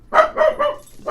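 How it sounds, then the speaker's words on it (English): A small dog barks three quick yappy times close up, with a fourth bark starting at the end. "if he hears something, he takes off barking"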